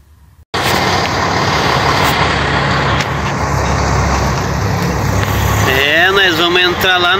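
Truck engine running loud and close at a chemical company's loading gate beside the Perimetral Norte road in Goiânia, a steady diesel drone throughout with a brief rising whine near the end.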